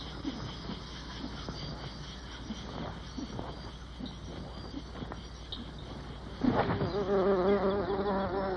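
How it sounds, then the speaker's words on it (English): Bee buzzing at flowers during buzz pollination, a steady close insect drone that rises into a louder, higher vibrating buzz toward the end, alone without talk. "Buzz pollination, the release of pollen by ultrasonic vibrations."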